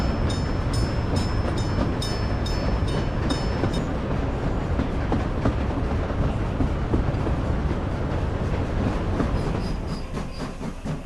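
A video game train runs loudly and steadily with dense rumble and rattling clatter throughout, high squealing tones near the start and again near the end, with no talk.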